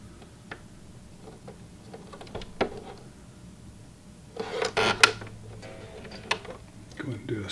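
A Singer Heavy Duty sewing machine clicks and ticks quietly, then sews a fast whirring burst of stitches up close, with faint mechanical ticks after it.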